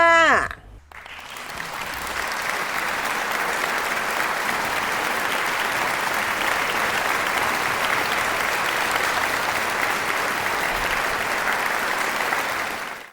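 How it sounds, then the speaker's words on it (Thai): Sustained, loud crowd applause at a Yamaha MT-09 Y-AMT sales celebration during the Big Motor Sale 2024 event, following a brief voice at the start and rolling on evenly for over ten seconds before cutting off. "ปรบมือกันรัวๆเลยค่ะ"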